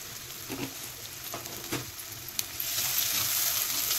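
Chana dal and turmeric sautéed in a pan, a steady close sizzle with a few spoon scrapes and one sharp tap, the frying growing louder and hissier toward the end.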